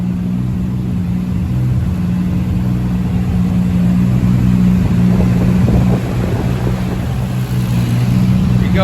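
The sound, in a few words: Lexus IS300 built engine revving on a dyno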